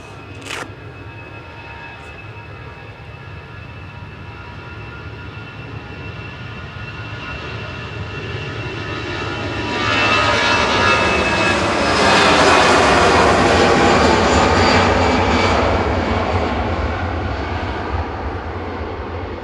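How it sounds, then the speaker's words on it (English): An EasyJet Airbus A319 jet takes off at Manchester Airport bound for Malaga, its engine roar building steadily from a distant rumble to a loud, broad peak before easing slightly, with no talking. "EasyJet off to Malaga, Airbus A319"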